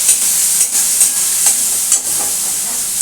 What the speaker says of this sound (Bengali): এইটা দিয়ে এটাকে আমি একটু ভালো করে নাড়াচাড়া করব